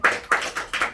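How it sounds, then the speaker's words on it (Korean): Four distinct, evenly spaced hand claps ring out close and sharp during a church sermon, each a crisp slap with a short decay, with no talking over them. "박수야."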